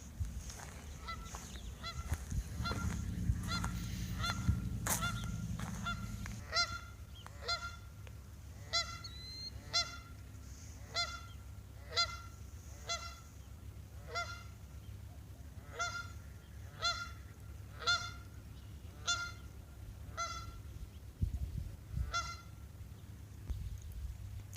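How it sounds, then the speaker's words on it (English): Geese honk repeatedly on a river below a dam, a series of loud, evenly spaced calls at moderate distance after a brief low rumble at the start, with no talking. "At least a couple geese just landed in the river down here"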